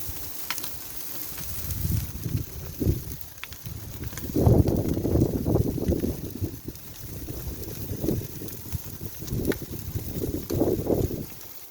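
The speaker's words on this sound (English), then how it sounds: "Outside where it's a little bit windy" Gusty wind buffets an outdoor spot where Caribbean jerk chicken wings are cooking, rumbling low in uneven surges that swell and fade across the stretch, with no voices.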